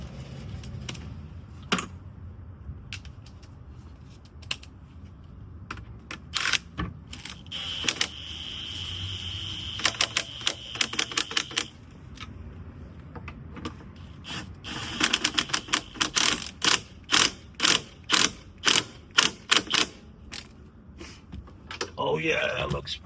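An impact gun tightens transmission mount bolts on a Honda CRX getting a built transmission, firing several short, rapid rattling hammer bursts that grow more frequent toward the end, with people talking in between.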